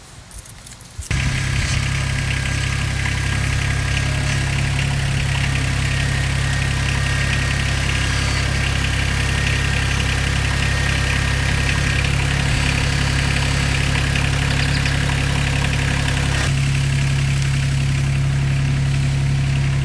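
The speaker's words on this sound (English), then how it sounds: "We're going to get on the tractor and just drive up on one wheel." A tractor engine rumbles loudly and continuously while driving up a ramp on one wheel, with a low droning hum that shifts slightly in pitch near the end as it works under load.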